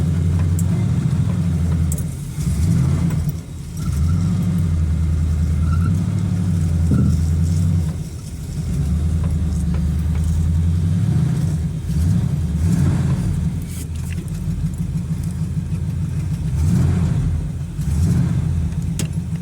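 A Chevrolet Monte Carlo, unmoved for a couple of years, sits stuck in mud while its engine is revved repeatedly, the loud, close, low rumble rising and falling in long surges with brief dips between.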